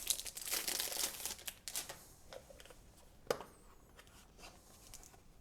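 A plastic bag holding a plastic box from a budget oil painting kit is handled and opened, giving a burst of close crinkling and rustling that thins into a few sparse, quieter crackles, with no talking.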